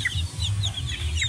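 Hen brooding newly hatching chicks, giving soft low clucks with faint high chick peeps above, close and steady.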